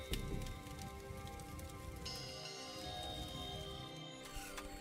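Steady rain falling outside in The Darkside Detective 2 video game, a continuous patter on surfaces overlaid with a game's tonal background sounds, no talk.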